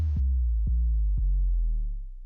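Sub bass played in Logic through the stock Fat Effects bass enhancer sounds alone, a sustained deep tone with three short percussive hits and added upper harmonics, fading at the end.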